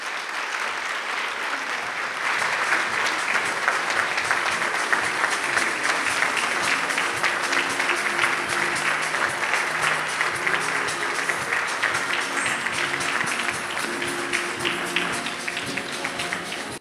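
Sustained audience applause at a youth business awards ceremony in KwaZulu-Natal, a dense, steady wash of many hands clapping that holds at full strength for well over a dozen seconds after a brief quieter start.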